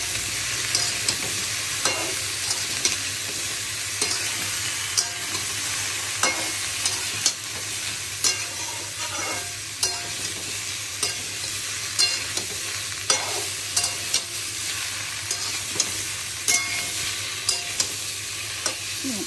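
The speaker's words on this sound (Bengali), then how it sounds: "তেলে ভালো ভাজা হচ্ছে" Mixed seasonal vegetables, eggplant and ridge gourd, sizzle steadily in hot oil, with a continuous frying hiss and repeated scraping clicks of a spatula stirring the pan, close and moderately loud with no talk.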